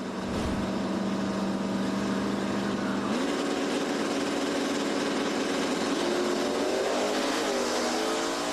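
1966 Ford Fairlane stock eliminator and another drag race car launching off the line, a loud continuous engine roar with rising revving tones as the cars pull away.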